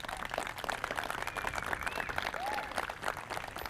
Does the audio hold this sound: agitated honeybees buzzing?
no